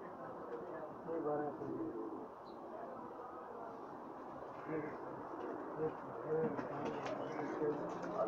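Pakistani racing pigeons coo in soft, repeated low calls, several birds close by, continuing steadily under someone speaking.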